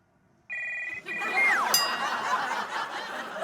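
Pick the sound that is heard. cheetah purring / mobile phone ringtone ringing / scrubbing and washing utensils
mobile phone ringtone ringing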